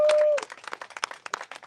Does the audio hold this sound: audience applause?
yes